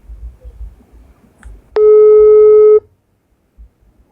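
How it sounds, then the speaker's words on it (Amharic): A single steady electronic ring tone of an outgoing phone call sounds for about a second, loud and clean against a quiet, faintly murmuring room. "እየጠራ ነው"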